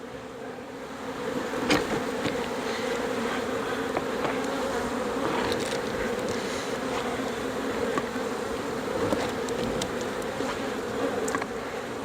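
Honey bees hum in a dense, steady buzz while working Ross Rounds comb honey frames in a hive, with occasional louder passes of individual bees close by.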